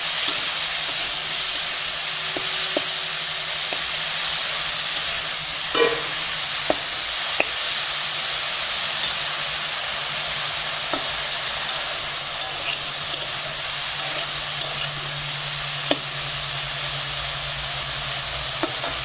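Brinjal slices coated in salt and turmeric fry in a pan with a steady, continuous sizzle and hiss, joined now and then by light stirring clicks of a utensil, close and alone with no voices.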